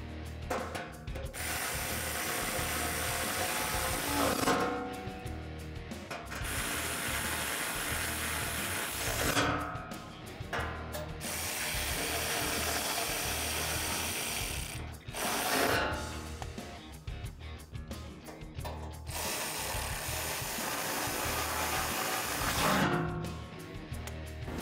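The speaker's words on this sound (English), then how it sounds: "Once those are threaded in, we can just tighten those up with a 12mm socket." A ratchet fitted with a 12mm socket clicks rapidly as it tightens front bumper bolts on a 2016-2021 Toyota Tacoma, in several long ratcheting runs separated by short pauses, close and fairly loud.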